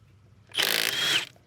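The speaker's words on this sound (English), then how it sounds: "let's see if the mid-torque 3/8 gun will get it." Milwaukee mid-torque 3/8-inch impact gun breaking a fastener loose in a shop: one short, loud burst of rapid hammering buzz lasting under a second, close by, with quiet before and after.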